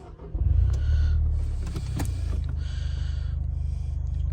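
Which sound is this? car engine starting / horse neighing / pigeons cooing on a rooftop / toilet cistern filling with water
car engine starting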